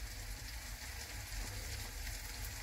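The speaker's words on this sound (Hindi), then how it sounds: "तो आप देख रहे हैं टमाटर हमारे पक रहे हैं" Tomatoes cook in a pan for a gram-flour and soya vegetable dish, giving a quiet, steady sizzle and bubbling hiss throughout with a low background hum.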